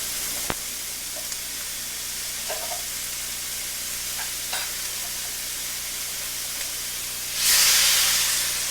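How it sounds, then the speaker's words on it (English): Shrimp frying in a hot pan with a soft, steady sizzle and a few light clicks, then cooking sauce poured in near the end, setting off a sudden loud hissing burst. "so we'll go ahead and add our cooking sauce"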